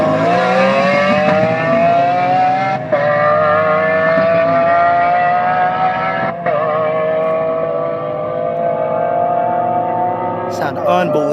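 Lamborghini Aventador supercar exhaust at a Hondo, Texas airstrip event, a loud sustained high-revving wail with rising harmonic tones, briefly dipping twice between pulls, close and continuous throughout.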